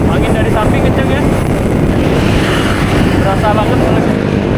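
Loud, steady wind roar buffets the microphone throughout during a road-bike ride from Bandung to Jakarta near Purwakarta, with a crosswind hitting from the side and faint traces of a voice underneath.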